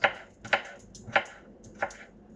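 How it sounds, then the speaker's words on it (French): Knife chopping and slicing carrot on a cutting board: four sharp, distinct chops spaced about half a second apart, close and clear, with no talk. "On coupe. On émince."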